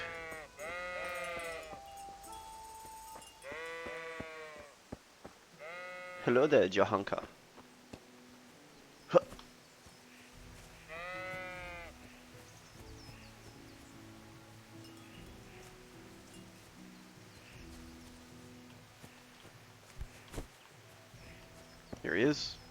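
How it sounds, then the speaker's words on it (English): Sheep in the medieval video game Kingdom Come: Deliverance bleat several times in short wavering calls, clustered early and again midway. A brief greeting is spoken, and soft rustling and scattered clicks fill the background. "They got sheep."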